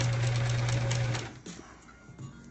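A sewing machine runs steadily while stitching the final seam of a quilt block, a close, even mechanical hum for about a second before it slows and stops, leaving faint handling sounds.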